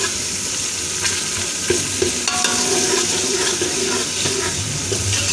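Tomatoes frying in ghee for dhaba-style aloo gobi give a steady, close sizzle with occasional scraping stirs running throughout.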